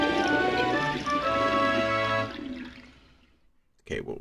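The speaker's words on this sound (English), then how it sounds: "But there goes the water." Water draining away in the Pikmin 2 video game, a gurgling rushing flow that fades out over a couple of seconds, followed by a brief burst of sound, with a voice speaking over it.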